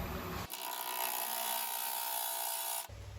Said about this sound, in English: I'm going to use my parting tool just to give myself a straight line going in.